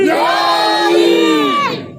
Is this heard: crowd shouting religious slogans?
yes